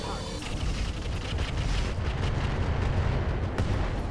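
Incendiary weapons firing in Roguetech, a dense, continuous roar of launches and booming impacts that stays loud throughout, with a few sharper cracks near the end.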